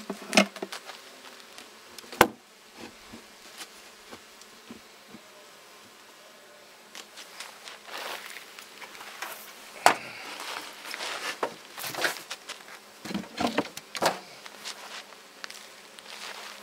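Honeybees buzzing around a weak homestead beehive that is failing before winter, a faint steady drone broken by scattered knocks and handling clicks, with no one speaking.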